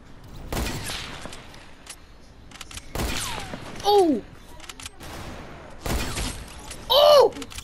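A sniper shot lands on a player in the Fortnite video game: sharp, loud cracks strike at intervals, mixed with brief whistling, chirping game effects.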